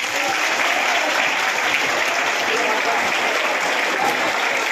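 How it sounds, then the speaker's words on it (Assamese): Schoolchildren clapping loudly together at a morning assembly, a dense, steady roar of applause that holds throughout. "মই তোমালোকক এটা জোৰছে হাত চাপৰি দিবলৈ অনুৰোধ জনাইছোঁ"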